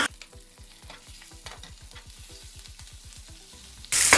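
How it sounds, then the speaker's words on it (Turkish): Peppers sizzle in a hot frying pan while being stirred in quick, regular strokes, each scrape sounding clearly over a soft, continuous hiss, followed by a louder burst of noise at the very end. "Daha sonra biberleri de atalım içerisine. Şöyle bir döndürelim."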